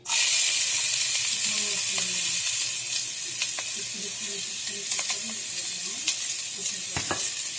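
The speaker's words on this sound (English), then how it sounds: "We are going to throw in the rest of these red onions because we don't want to waste anything." Red onions hit a hot frying pan and sizzle loudly at first. The hiss stays steady while soft stirring clicks and scrapes come through over several seconds.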